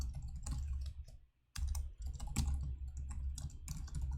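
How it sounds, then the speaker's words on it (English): Steady, rapid clatter of typing code on a computer keyboard during a competitive programming contest, close and continuous with a short pause midway, no talking. "It's just all typing at this point"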